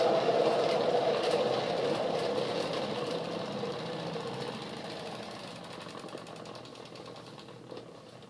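A motorized spinner whirls an acrylic pour painting, giving a steady mechanical whirring hum that runs throughout and slowly fades a little toward the end.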